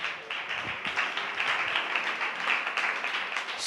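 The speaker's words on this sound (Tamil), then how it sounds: "நல்ல கைத்தட்டி ஆண்டவருக்கு நன்றி சொல்லுங்களேன்" A church congregation claps hands together in thanks, a steady crackling patter of many palms that fills the room at moderate volume, with no voices over it.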